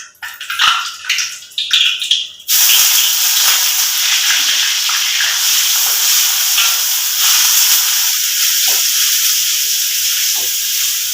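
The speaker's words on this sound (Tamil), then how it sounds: "இப்போ இடித்த வெங்காயம் நான் போட்டுக்கிறேன்." Crushed onions hit a hot pan of oil already holding star anise, bursting into a loud, steady hiss after a couple of seconds of quieter kitchen clatter, then sizzling on continuously with occasional small scrapes.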